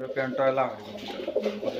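A pair of black Budapest pigeons nesting on eggs coo softly and close by, with a few short repeated calls mixed with someone talking.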